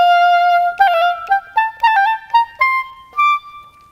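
A solo oboe plays a short phrase with quick Mozart-style grace notes, several rapid ornamental notes flicking before sustained tones, clear and close, a steady opening note followed by a stepwise run of short articulated notes.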